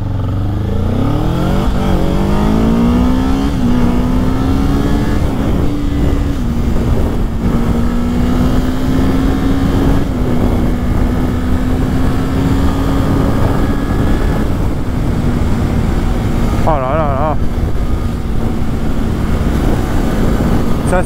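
A 2024 Kawasaki Ninja 7 Hybrid motorcycle accelerates on the road, a loud, rising engine tone climbing in pitch and then holding steady under heavy wind noise, with a brief whine near the end.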